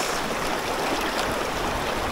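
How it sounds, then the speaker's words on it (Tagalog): River current flowing at a riverside spot in Tupa, San Vicente, San Pablo, a dense, even rushing hiss of moving water, loud and close and unbroken. "Sakto lang yung agos."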